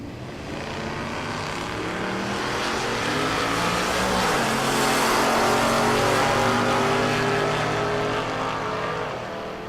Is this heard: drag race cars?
yes